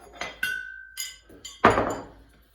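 Several sharp metallic strikes of a hammer ring out on a garage floor during a vintage car rear differential rebuild, one leaving a lingering tone, ending with a heavier, louder blow that decays slowly.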